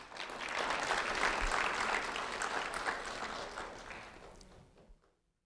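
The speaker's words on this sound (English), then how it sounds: "a round of applause for Kiki, please." An audience gives a round of applause for a student at a recognition ceremony. The clapping is fairly faint and steady for several seconds, then tapers off and stops.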